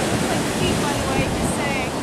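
Ocean waves wash steadily onto Bridport Beach in a continuous roar of surf, with some wind buffeting the microphone.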